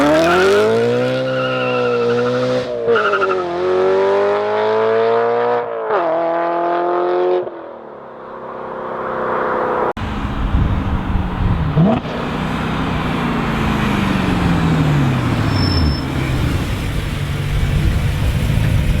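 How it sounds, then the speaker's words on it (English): A BMW E90 M3 engine and aftermarket exhaust drone steadily at partial throttle, rising and falling in pitch as it cruises, with tire noise and road rumble building in the second half. "what I like about this exhaust is you're cruising right now, partial throttle, it almost sounds stock"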